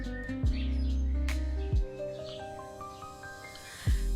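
Bird calls and chirps sound over a steady low hum, with a few sharp thumps breaking in; the birdsong is faint and scattered, at Veermata Jijabai Zoo in Mumbai among old trees.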